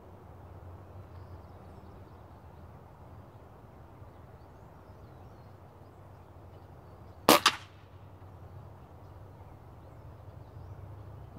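A single sharp crack from an Umarex Gauntlet .22 air pellet rifle, fired outdoors at a ping pong ball, with a brief echo after it, standing out against a quiet background hum.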